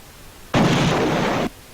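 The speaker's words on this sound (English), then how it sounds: "Time for another explosion sound." A cartoon explosion sound effect from Sound Bible bursts in abruptly as one loud, dense, noisy blast, holds steady for about a second, then cuts off sharply.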